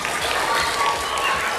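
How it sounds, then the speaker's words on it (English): A school assembly crowd of students claps in a quick, dense round of applause, steady and fairly loud throughout. "Give yourselves one quick round of applause."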